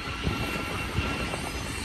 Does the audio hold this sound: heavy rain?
no